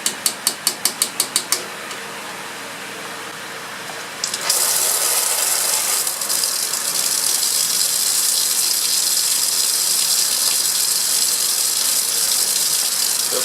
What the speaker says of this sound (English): so I'll push this down to settle it out, and we'll start the vacuum.